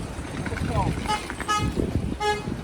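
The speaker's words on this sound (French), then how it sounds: "il se fait klaxonner pour finir" A car horn toots a few short times nearby amid street noise on Tenerife, with people talking over it.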